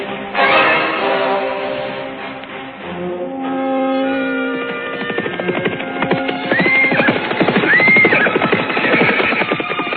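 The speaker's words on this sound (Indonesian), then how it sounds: "Derap kaki-kaki kuda mereka bergemuruh bagai air bah yang mengalir deras tak tertampung." Horses whinny and neigh over a rapid drumming of galloping hooves, a busy radio-drama effect set for a mounted band riding toward the Majapahit royal city; loud and sustained throughout, with no talk.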